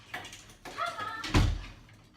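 A door shuts indoors with a single dull thud near the end, after some faint shuffling and brief voices.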